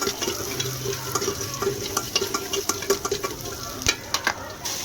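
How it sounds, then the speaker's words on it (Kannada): Curry leaves and onion frying in hot oil for a tempering, a steady close sizzle with scattered stirring clatter and scrapes throughout. "ಸ್ವಲ್ಪ ಕರಿಬೇವಿನ ಸೊಪ್ಪು, ಸ್ವಲ್ಪ ಈರುಳ್ಳಿ ಹಾಕ್ಕೊಂಡು ಒಗ್ಗರಣೆ ಕೊಟ್ಕೊಂಡು ಅದು ಸ್ವಲ್ಪ ಹುರ್ಕೊಂಡಾದ್ಮೇಲೆ"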